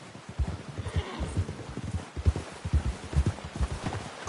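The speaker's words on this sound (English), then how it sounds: "Get a hold of that horse, Arthur" A horse in the Red Dead Redemption video game whinnies and snorts while its hooves clop in an uneven, close rhythm, loud and alone without speech.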